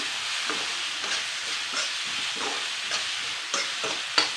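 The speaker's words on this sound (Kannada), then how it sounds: "ಇದನ್ನು ಎಣ್ಣೆಯಲ್ಲಿ ಫ್ರೈ ಮಾಡೋಣ" Brinjal pieces frying in oil for brinjal chitranna, a soft steady sizzle with regular scraping stirs of a spatula against the pan, close and even, no talking.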